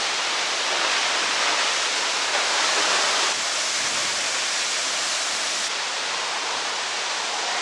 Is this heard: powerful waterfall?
yes